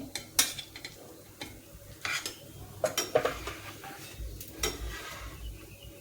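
A Mysore masala dosa is flipped on a pan, with metal spatula scrapes and clinks over a faint sizzle, in short sharp bursts close by.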